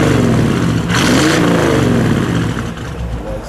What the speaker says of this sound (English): Jerry, give me a little rev, please.